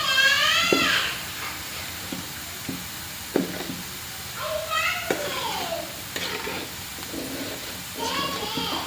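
Khichuri stirred in a cooking pot to keep it from sticking: scattered scraping taps and soft clatter under light sizzling, with higher voices chattering over the top.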